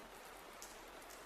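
Soft, steady rain falls outside a bedroom as a faint, even patter with a few slightly brighter drops, continuous and calm throughout the brief moment.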